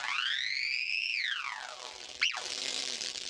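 The Skiiid iOS morphing drum synth produces a tone that glides upward, holds, then sweeps steeply down, followed by a short zapping blip with sharp pitch change, fairly quiet and with no voices over it.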